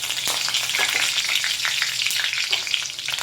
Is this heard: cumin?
yes